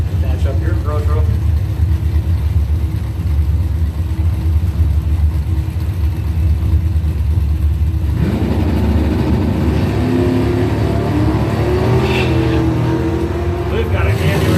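Camaro drag race cars accelerate at a Pro Trophy memorial race, a loud, continuous engine roar that rises and surges partway through, with an announcer talking over the noise.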